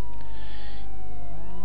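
A police car siren from the PS1 game World's Scariest Police Chases wails steadily and loudly with slowly sliding pitch throughout, under continuous engine and road noise.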